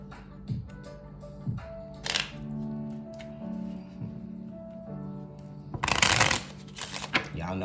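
Oracle cards shuffled by hand for clarifier draws, soft riffling bursts and brief ruffles scattered between quiet stretches, with a voice talking over parts of it.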